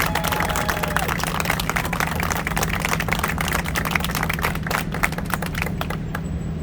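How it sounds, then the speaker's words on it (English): An audience claps at a public unveiling event with the Providence mayor, a dense, continuous patter of many hands that holds steady for several seconds before thinning out toward the end. "Can we have a big round of applause for Tina?"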